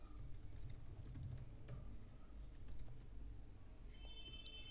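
Someone types code on a computer keyboard in a fast, irregular patter of light key clicks, soft and fairly close, with no one speaking.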